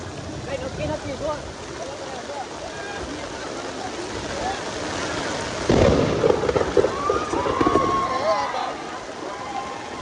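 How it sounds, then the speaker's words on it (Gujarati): A deep rumble of thunder from a nearby lightning strike rolls in partway through, loud and sustained, over a steady background of heavy rain hiss with voices talking, in Surat. "વીજળી પડી"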